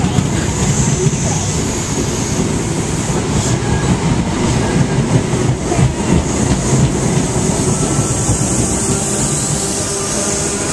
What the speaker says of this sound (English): One train. Go slowly. Getting faster.